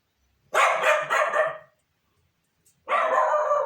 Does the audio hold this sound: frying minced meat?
no